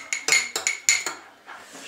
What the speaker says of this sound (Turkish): şöyle karıştırıyorum. Biraz da su ekleyeceğim.